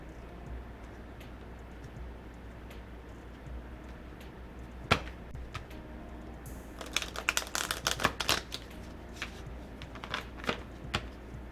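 Quiet room tone, then a burst of crisp riffling and flapping from about seven seconds as a deck of tarot cards is shuffled up close, with a few taps after.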